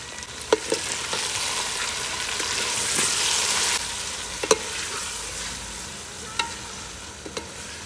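Tomatoes frying in ghee with cumin and black pepper, a continuous close sizzle punctuated by sharp clicks of a spoon scraping the pan, swelling briefly louder midway, with no talk.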